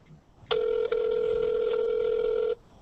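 A telephone rings in a single steady electronic tone lasting about two seconds, loud and close, with a brief dip near the start, heard during a live stream call.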